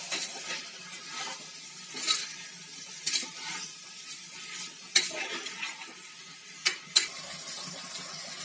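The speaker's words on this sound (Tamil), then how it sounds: "இப்போ நல்லா ஒரு பெரட்டு பெரட்டிக்கலாம் மசாலாவோடு சேர்த்து அரிசி மிக்ஸ் ஆகட்டும்" Soaked rice is stirred into masala in a pot for jackfruit biryani, with a soft ongoing sizzle and intermittent scrapes and knocks of a spoon against the vessel.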